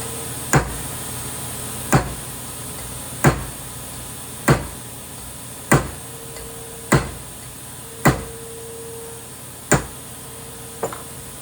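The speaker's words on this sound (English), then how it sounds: "do a little more peening until I get it mostly straightened out" A hammer peens a lathe compound slide to straighten it, giving nine sharp metallic blows spaced evenly about every one and a quarter seconds, close and distinct over a faint shop hum.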